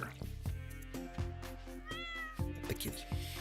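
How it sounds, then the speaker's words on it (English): A cat in the Stardew Valley game meows over steady background game music, with a few short meow calls standing out clearly above the tune. "The kitty."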